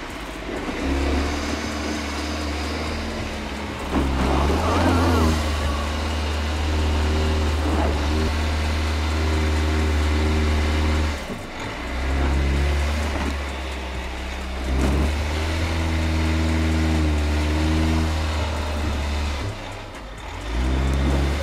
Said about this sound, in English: The car rolls back again and passes the obstacle by the easier trajectory.